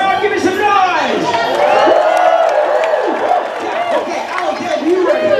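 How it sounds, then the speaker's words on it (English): Large outdoor crowd at a stunt-driving show at a theme park, cheering, whooping and shouting in a loud, continuous roar with many overlapping voices. "Come on, crowd, give me some noise!"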